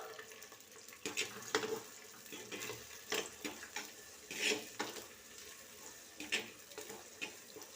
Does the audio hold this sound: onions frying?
yes